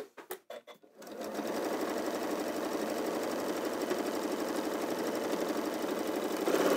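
Several quick clicks come first, then a domestic sewing machine runs fast and steadily, stitching quilt fabric with a close, rapid mechanical chatter.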